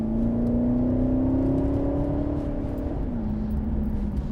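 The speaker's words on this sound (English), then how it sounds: "And the engine revs a fair amount as well." A Holden VXR8's V8 engine hums and revs while driving, a steady, smooth drone rising slightly in pitch and then settling lower, heard from inside the car.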